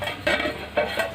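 Stirring and covering a pot of Bengali bori vegetarian curry: two or three sharp clinks of a spoon and lid against metal over a soft background hiss.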